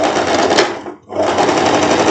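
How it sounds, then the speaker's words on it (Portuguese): A sewing machine runs a topstitch along the facing of a wrap-style floral dress, a loud steady whirr that stops briefly mid-stretch and then resumes. "Virou, você vem passando um pês-ponto em cima do revel."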